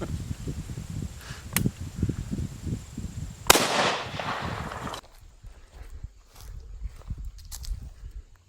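A .50 BMG rifle fires old ammunition into hickory wood: one loud, sharp report at close range with a short decaying tail. Footsteps and rustling come before it and quieter rustling follows.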